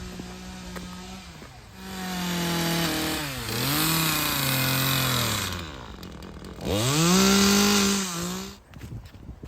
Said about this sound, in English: they're just doing some chainsaw carving